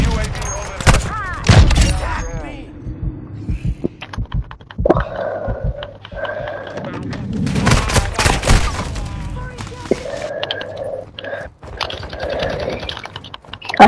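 Call of Duty Modern Warfare 2 multiplayer match with loud bursts of in-game gunfire and rapid clacking, mixed with thuds and a voice talking over the action.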